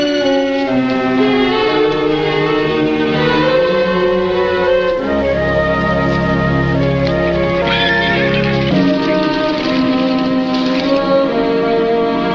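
Several horses roaming wild in open hill country beyond the hills, with a herd's neighs and whinnies rising over steady hoofbeat rumble, moderately close and loud, no voices.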